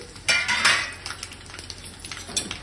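Dried red chillies frying in oil in a pan for spicy korivi karam, with metal spoon scrapes and clinks over a soft sizzle, close up and without voices.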